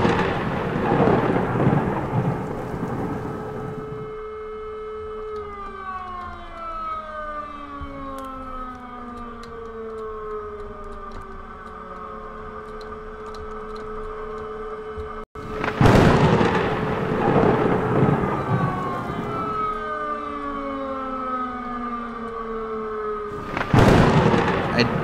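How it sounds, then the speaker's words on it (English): Thunder rolling through a mountain storm in the Elk Mountain survival game, loud rumbling bursts at the start and again in the middle, with wind and a rising, falling siren-like tone sweeping across between them. "I'm hearing some thunder and some lightning, and the wind's picking up quite a bit."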